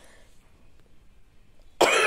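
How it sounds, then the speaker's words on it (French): After a quiet stretch, a woman lets out a single sharp, loud cough close by at the very end. "j'arrivais pas à m'arrêter de tousser"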